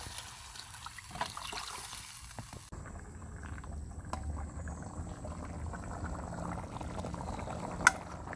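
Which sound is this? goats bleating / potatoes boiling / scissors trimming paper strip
potatoes boiling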